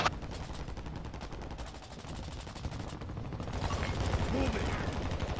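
Dense, continuous automatic gunfire from a video game shootout, rapid rattling bursts running the whole time with no pauses, loud and close, with a player talking faintly underneath.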